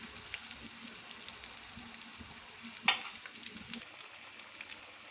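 Taco bread frying in hot oil, a steady close sizzle with crackling pops and one louder sharp spatter partway through.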